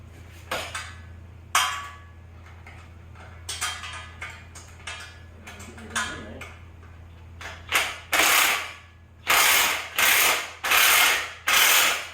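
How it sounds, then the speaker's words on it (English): A ratchet wrench removes nuts from the base of a hydraulic tubing bender with rapid clicking pawl bursts, sparse at first and then in long, loud, regular runs at close range with no talking. "I'm going to take the nuts off the bottom of it here."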